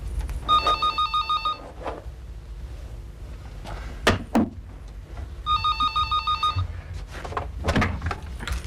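A telephone bell rings in two clear bursts of rapid trilling, separated by a pause with a door or cupboard knock, in an indoor household scene from an Urdu family drama.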